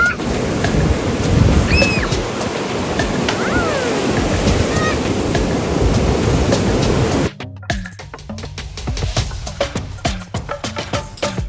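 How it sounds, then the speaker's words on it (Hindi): Ocean surf at a beach crashing and washing loudly for several seconds, then a sudden drop to a quieter stretch with scattered clicks and splashes. "It's a big wave."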